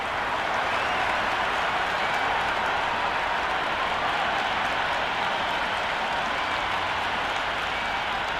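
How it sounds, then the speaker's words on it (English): A stadium crowd in the cricket game Cricket 26 roars and applauds in a steady, dense wash of cheering that holds at an even loudness throughout. "already the crowd making a hell of a racket"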